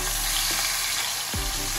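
Fish heads frying in hot mustard oil in a pan, a dense steady sizzle close up with a couple of low thumps from the pan, no talking.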